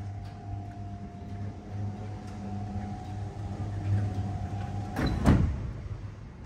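A door closes with a short, fairly loud thud near the end, following a low steady hum inside a car-detailing workshop in Porto-Vecchio.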